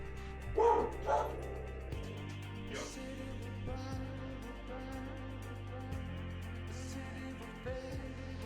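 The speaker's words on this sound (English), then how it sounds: "Those are barking dogs." Dogs bark outdoors on a very windy day, with a couple of sharp, close barks early on followed by fainter yips and whimpers over a steady background drone.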